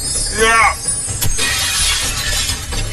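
Glass shatters loudly in a game-challenge setting, a bright crashing burst with scattered tinkling debris that continues under excited voices talking.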